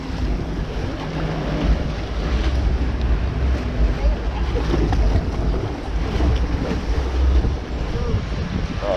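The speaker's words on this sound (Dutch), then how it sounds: "Ah, nog een paar golven." Waves surge and splash around a boat on the Port Laguna water ride at Toverland theme park, a continuous loud wash with wind buffeting the microphone and faint voices beneath.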